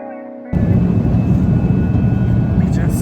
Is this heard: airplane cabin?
yes